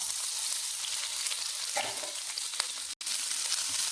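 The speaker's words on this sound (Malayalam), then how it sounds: "എണ്ണ ഒഴിച്ചിട്ടുണ്ട് നമ്മൾ സവാള ഇട്ട് കൊടുക്കാം" Sliced onions frying in hot oil in a pan, making a dense, steady sizzle close up with occasional stirring scrapes and one brief dropout, with no voices.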